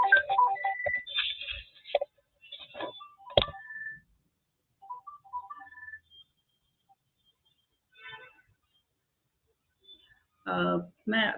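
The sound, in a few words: mobile phone ringing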